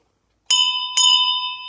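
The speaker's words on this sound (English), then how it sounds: "We ring the bell." A small hand bell rings twice in quick succession at a children's storytime, each strike clear and close with a long shimmering ring that fades slowly, heard alone without talk.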